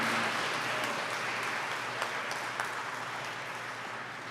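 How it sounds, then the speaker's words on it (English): Gala audience applauding sponsors at the House of Mercy Gala, a steady, fairly faint wash of clapping from a room full of people, holding even for several seconds without voices. "Please give them an applause because they are so generous with us"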